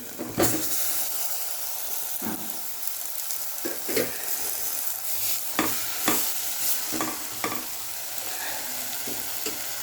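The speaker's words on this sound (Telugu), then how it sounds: "ఇప్పుడైతే మనము ఈ వంకాయలను వేసుకుందాం" Eggplants for a stuffed brinjal curry fry in hot oil with a continuous close sizzle and hiss, broken by several sharp spoon-and-pan stirring knocks.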